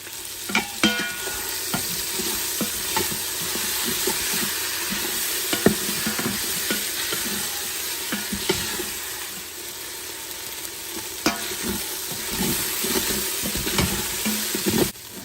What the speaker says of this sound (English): When it gets hot, I'm going to toss in that meat that we just cooked.